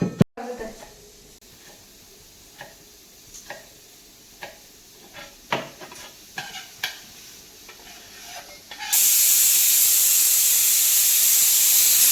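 Pressure cooker cooking mushroom pulao on a home stove: scattered clinks and stirring knocks over a low hiss, then a loud, steady, high-pitched steam whistle that starts abruptly and holds to the end.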